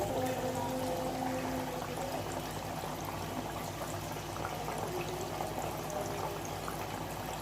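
Comb murukku dough frying in hot oil makes a soft, continuous sizzle and bubbling that stays steady and fairly quiet throughout.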